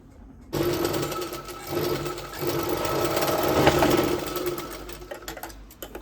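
Sewing machine running continuously after a bobbin repair, a close, steady mechanical whir of stitching that starts abruptly and holds for several seconds.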